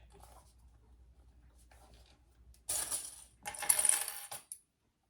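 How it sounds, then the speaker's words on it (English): Scissors make a few quick, close snips while clipping the straight edge of a leather gusset for a waist pack, after a quiet lead-in with faint handling sounds. "I'm going to clip my gusset."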